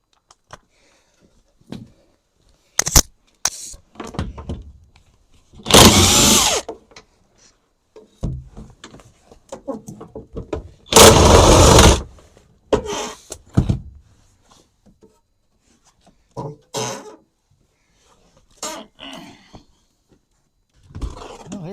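A power tool zaps bolts out of the rear half of a Chevy S10 fender. Two loud, roughly one-second rattling bursts stand out between scattered clanks, knocks and handling noises from the work.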